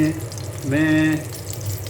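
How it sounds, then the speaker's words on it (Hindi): Water poured into a cooking pot holding boiled chicken and tomato paste, a brief half-second hiss and gurgle over background sizzling. "पानी डाला मैंने, तेल डाला।"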